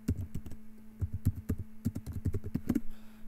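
Rapid typing on a computer keyboard, a close, steady flurry of key clicks in irregular bursts over a faint constant hum.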